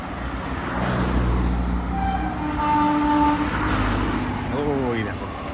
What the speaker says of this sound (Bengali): ওই দেখো আবার ট্রেন যাচ্ছে।